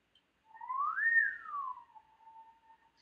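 A lone whistled note glides upward, peaks, then eases down to a steady, lower held tone; clear and close with no other sounds.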